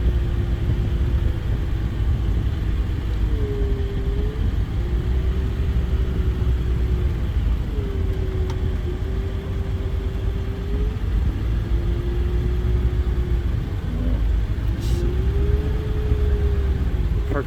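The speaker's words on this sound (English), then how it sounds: "I'm gonna park on the gravel too." A car engine rumbles steadily at close range while parking on gravel, with a low whine that rises and falls in several slow swells as it maneuvers; no voices.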